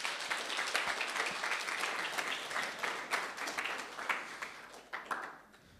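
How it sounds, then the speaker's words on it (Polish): A youth-gathering audience in Podkowa Leśna applauds a contestant in a Polish quiz tournament, producing dense, steady clapping that fills the room for about six seconds before it begins thinning out near the end. "Brawa dla Janka."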